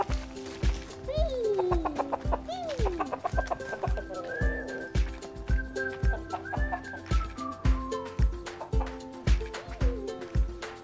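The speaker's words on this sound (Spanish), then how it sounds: "nos dimos otra vez cuenta que era gallo, no gallina" A young pet rooster clucks and chirps repeatedly close to the mic in short rising calls, while a person talks over it throughout the stretch.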